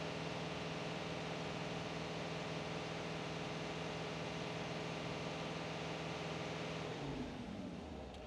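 A truck diesel engine runs at raised, steady revs during a parked regen, then winds down around the seven-second mark to a lower idle, with a continuous close drone and no talking.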